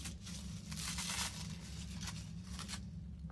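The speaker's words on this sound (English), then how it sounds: "I don't want to make a mess of this tissue paper" Tissue paper wrapping on a small taped gift tin is torn and crinkled close up in repeated papery bursts, with a low steady hum underneath.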